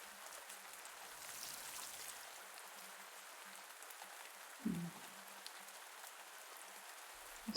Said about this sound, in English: Maybe they're like protecting themselves from the rain with their own foliage.